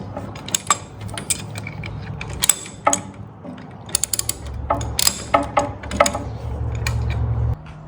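Ratcheting clicks come in quick bursts with short pauses as a nut is run onto a bolt on a 1964 Volkswagen Beetle chassis, close and crisp over a low background hum.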